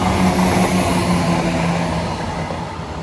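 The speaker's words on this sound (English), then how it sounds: "So Matlock, Nottingham service, accelerating away from Duffield Station" Matlock to Nottingham passenger train accelerating away from Duffield Station, heard from about a quarter mile south: a loud, steady engine drone with a low throb that slowly fades as it pulls away.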